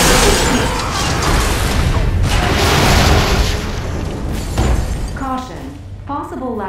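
An explosion in the LEGO Marvel Super Heroes video game marks a laboratory break-in: a loud, sustained roaring blast with rumbling debris fills several seconds, then fades as a voice begins speaking.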